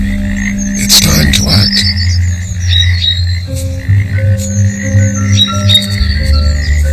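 A male frog croaks at a thawing pond in Norfolk in February, a steady low throaty croaking running throughout with bird chirps above and a voice speaking briefly over it.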